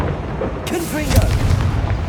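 A Confringo fire-spell blast in Hogwarts Legacy bursts out as a booming, crackling explosion of about a second, fairly loud and close, following a short lead-in with faint game sounds beneath.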